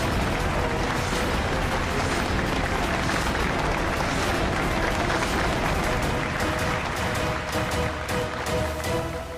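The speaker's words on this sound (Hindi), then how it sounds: "गाइस तालियां।" Sustained, dense applause from a studio audience greeting a couple called onto the stage of a Hindi TV serial, steady and loud throughout with crowd noise mixed in.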